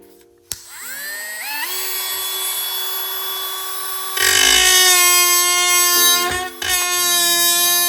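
A small high-speed rotary tool with a sanding ball whines up to speed and grinds against metal, the pitch dipping and rising as it bites, with no talking.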